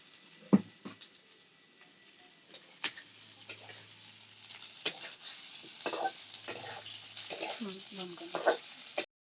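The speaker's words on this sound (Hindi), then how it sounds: "ताकू आ टिके फ्राई कर दबा तेल रे" Ground cashew and magaj paste frying in oil in a pan, a thin continuous sizzle with scattered scrapes and clinks of a spoon, fairly close, with faint talk in places.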